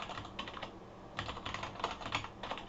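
Rapid typing on an American-layout computer keyboard, clicking keys in uneven bursts with a short pause partway through, close and fairly loud, no voices.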